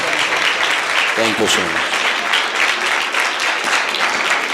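Steady, dense applause from a church congregation welcoming their pastor fills the whole stretch, with someone briefly speaking over it near the middle.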